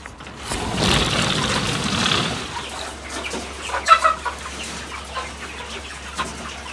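Young hens of about eleven weeks, close to laying age, cluck inside their coop. A soft rustling opens, then scattered short clucks follow, fairly close, with no talk.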